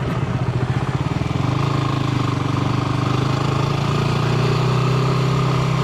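A motorcycle engine pulls away and shifts gear, starting with a pulsing low idle that settles into a steady, rising drone, close and fairly quiet, with no talk.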